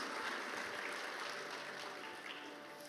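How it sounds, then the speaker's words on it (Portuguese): A church congregation at an Easter weekend evening service applauds, the clapping faint and distant and steady, fading slightly toward the end. "Pode aplaudir ao Senhor?"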